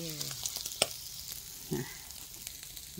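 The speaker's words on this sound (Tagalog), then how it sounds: "Ayan, gisa-gisa." Vegetables for lumpiang toge sauté in a hot pan with a steady sizzle and frying crackle. A few sharp clinks and stirring scrapes cut in, and a faint voice can be heard in the background.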